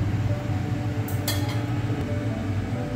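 A lid set onto a cooking pot of pumpkin with salted hilsa fish gives a brief metallic clink, then a faint rattle, against a steady hum of kitchen background.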